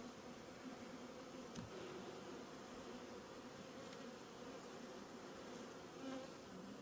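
Honey bees buzzing around an open hive during an October inspection, a steady, dense drone of many bees close by, continuous and unbroken, with no talking.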